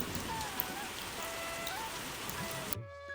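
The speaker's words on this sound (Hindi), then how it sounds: "बरसात के मौसम में उसकी झोपड़ी की छत से पानी टपकता रहता था।" Rain falls steadily on a hut roof in an animated Hindi story, a dense, even patter of drops with a soft tonal score underneath. The sound continues without a break for nearly three seconds, then cuts off abruptly.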